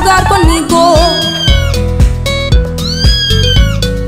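A cat meows repeatedly and loudly over a children's song, each meow clear and close, arriving in quick succession throughout.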